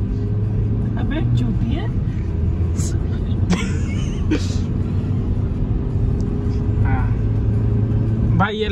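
A car launches hard and pulls through its gears with an early shift into second, the engine rumble loud and steady throughout with people talking over it.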